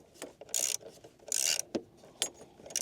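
A 13 mm socket wrench works on the battery terminal of a Peugeot 3008, giving quiet ratcheting clicks in short bursts with small metallic taps between them, close up.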